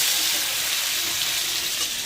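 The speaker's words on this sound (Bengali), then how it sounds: "এটা একটু ভাজা ভাজা করবো, তারপর মশলাগুলো দিয়ে দেবো।" Papaya and potato pieces fry in a pan of hot oil with onions, giving a steady, close, hissing sizzle that stays even for the whole moment without talk.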